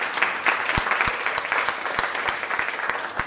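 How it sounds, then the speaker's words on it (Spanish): A church congregation applauds during a Spanish-language service, steady mid-distance clapping throughout, with a few sharp low thumps punctuating the hand claps. "Denle un aplauso al Señor."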